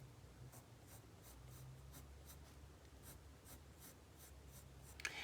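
Polychromos coloured pencil scratching across paper in quick, regular strokes, a steady rhythm of short scratchy bursts at close range with no talking.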